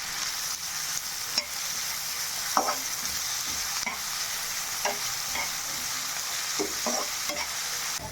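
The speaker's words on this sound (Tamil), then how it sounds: "வெங்காயம் நல்லா பொன்னிறமாக வதங்கி வரட்டும்" Finely chopped large onions sautéing in a pan toward golden brown for a mushroom kurma, with a steady close sizzle and a few soft clicks of a spoon stirring through it.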